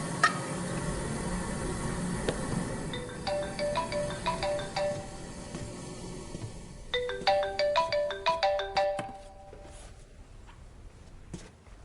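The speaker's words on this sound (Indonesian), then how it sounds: "Ponselmu berdering." A mobile phone ringtone plays in a kitchen while food sizzles and fries, a melodic pattern of repeated tone bursts in two phrases over a steady frying hiss, fairly loud and close.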